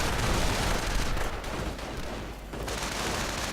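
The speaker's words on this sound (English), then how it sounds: "Grenadiers continuing to fire away in the name of the fatherland." Grenadiers fire in a strategy video game battle, producing a dense, continuous wash of overlapping gunfire and artillery-like rumble at a steady level with no clear gaps.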